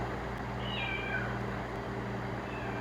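A pet cat gives a single drawn-out meow that rises and then falls, fairly soft and slightly distant above a steady low indoor hum.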